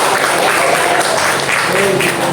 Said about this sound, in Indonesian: Oke, tepuk tangan untuk Jericho.